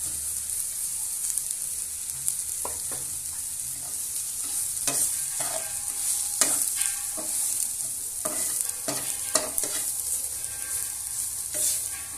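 Roasted coconut stirred into a masala frying in a pan for a fried fish curry, giving a bright continuous sizzle with repeated scraping and clinking stirs of the spoon, close and fairly loud, no talk.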